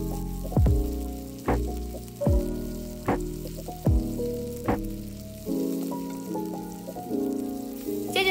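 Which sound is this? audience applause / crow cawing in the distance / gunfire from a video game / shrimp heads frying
shrimp heads frying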